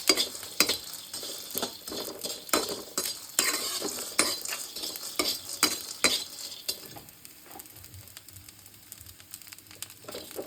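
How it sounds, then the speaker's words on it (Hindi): Moong dal frying in a pan for laddoos, a steady sizzle broken by frequent scraping stirs and clinks of a spoon against metal, close and fairly loud, easing off toward the end, with no talking. "इसको आपने अच्छी तरह से फ्राई कर लेना है"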